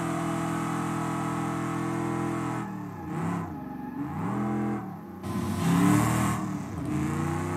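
A 1919 or 1905 Ford Model T driving on a track, its engine a steady, close, buzzing drone that dips and surges as the throttle changes, with no talk over it.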